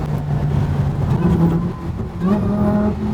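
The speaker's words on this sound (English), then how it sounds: "that supercharger whine and the pops" Supercharged car revving close by, a rising engine note with a high whine layered over the exhaust rumble, the pitch climbing twice in quick surges with no talk over it.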